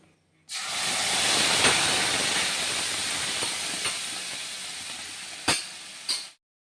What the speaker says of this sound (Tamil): இப்போ நம்ம அரைச்சி வச்சுருக்க மசாலாவை ஊற்றிடுவோம்